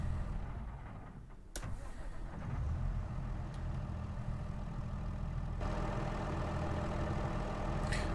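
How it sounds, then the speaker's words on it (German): Deutz Fahr Serie 9 tractor engine in Farming Simulator 22, a steady low mechanical rumble running on without a break after a brief start-up transient, close and fairly loud, with no voices. "Lassen wir mal noch mit dem Motor an"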